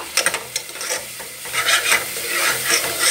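Spice masala roasting in a pan for a phali sabzi, loud close sizzling with scraping stirring strokes that come in uneven bursts, no talk.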